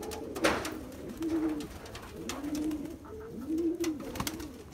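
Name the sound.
Sabza pigeon cooing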